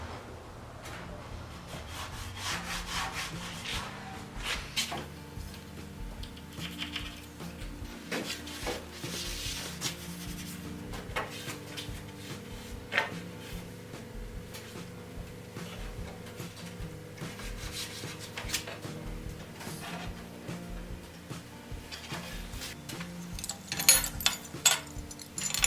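Wooden sideboards for a mud wagon coach body being trimmed to size in a coach shop, with continuous close rubbing and rasping strokes of wood being worked and scattered small knocks, steady and moderately loud, with no talking.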